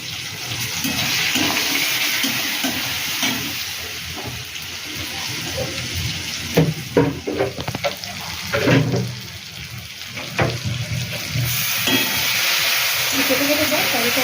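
Bottle gourd curry with fish head and cumin powder fries in a pan, a steady close sizzle broken by stirring scrapes and clinks, with faint talk in the background.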